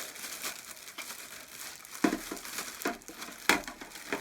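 Plastic packaging around a newly unboxed Anker Eufy RoboVac 11S robot vacuum crinkles and rustles close by, with several sharper crackling bursts between softer continuous handling noise; no one talks.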